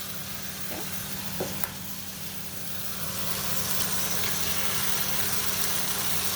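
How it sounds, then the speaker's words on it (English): Eggs frying in a hot pan alongside pad see-ew noodles, a steady close sizzle with a few light utensil taps early, the hiss swelling louder and denser midway and holding, with no talking. "I'm gonna go ahead and make a little bit of what you call it, a well. Okay, and then I'm gonna add eggs"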